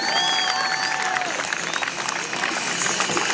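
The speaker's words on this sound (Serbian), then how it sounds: "Veliki aplauz!" A crowd claps and cheers continuously at a freestyle stunt show at the opening of a skate and bike park in Pančevo, with a few voices and whistles mixed in.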